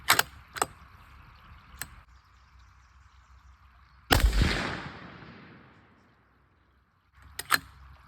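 A rifle shot from a Tikka T3 chambered in .270 Winchester fires once as a loud, sharp blast with a long decaying tail, bracketed by several fainter clicks and knocks of handling before and after.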